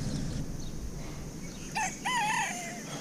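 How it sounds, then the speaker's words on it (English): A rooster crows once in the background, a rising and falling cock-a-doodle-doo over low ambient noise. "my rooster you hear in the background"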